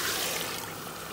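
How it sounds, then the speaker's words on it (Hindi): Water poured into a cooking pot of hot oil while making dal gosht, a brief, steady, close rushing hiss lasting about a second. "अब इसमें डालने लगे पानी,"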